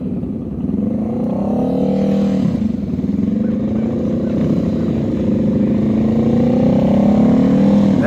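A motorcycle engine hums and revs gently during slow-speed riding practice, its pitch rising and falling in steady swells across the whole stretch, close and fairly loud with no talking.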